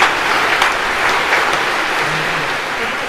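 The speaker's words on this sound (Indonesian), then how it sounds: "Kita tepuk tangan untuk Bapak Uskup Monsinyur Petrus Bodeng Timang." Audience applause for a bishop at a Jesuit priestly ordination Mass in a Catholic church, steady dense clapping filling the hall at close range with no talk over it.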